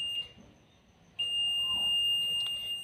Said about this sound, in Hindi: जैसे मैं इन दोनों को पास पे रखूँगा, बीप बजर का साउंड आपको आ रहा होगा